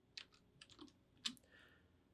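Bursts of keystrokes on a computer keyboard while entering a terminal command to make a new folder, with a few separate clusters of clicks and one sharper tap, recorded close and fairly quiet with no talking.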